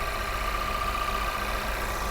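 A 2019 car engine idling, a steady low hum with a faint constant whine above it, even and unbroken for a couple of seconds.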